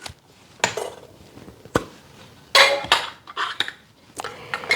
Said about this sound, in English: And then I'm going to just take the lid off.